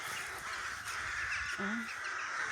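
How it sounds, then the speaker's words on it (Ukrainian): A raven gives a hoarse caw at a distance over a steady outdoor background hum. "Грає ворон."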